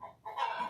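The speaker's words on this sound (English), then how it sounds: "Me trying to talk over the chickens here." Chickens cluck and call just outside an open door on a fine day in rural Mid Wales, several birds sounding close and fairly loud in short, overlapping bursts with no talk.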